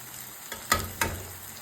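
Bitter gourd pieces frying in a pan over a medium flame, a low steady sizzle broken by a few short stirring scrapes near the middle, no voices.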